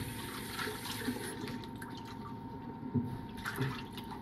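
Water runs gently over a trout fillet being rinsed, a soft, fairly quiet wash of splashing with small irregular gurgles and drips throughout.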